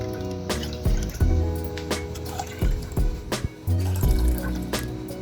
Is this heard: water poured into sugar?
yes